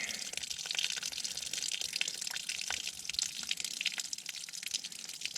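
Water trickles and splashes steadily for the whole stretch as an RV P-trap drains, a close, continuous draining gush with small drips.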